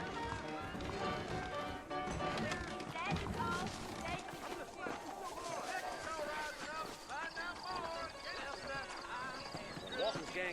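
Horse hooves clip-clop in a steady trotting rhythm in the Western video game Red Dead Redemption, continuous beneath character dialogue and background score.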